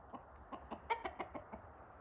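Chickens on a home property cluck softly nearby in a short run of quick, irregular clucks, faint but clear over a quiet background with no talking.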